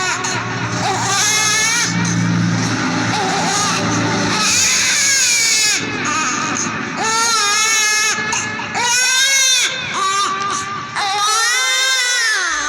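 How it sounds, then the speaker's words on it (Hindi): A baby wails loudly and persistently beside a riverbank, rising and falling cries filling the space with only brief gaps, close and dominant throughout. "कोई बच्चा रो रहा है।"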